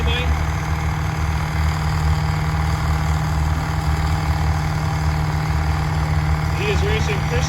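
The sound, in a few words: diesel truck engine idling while warming up at drag race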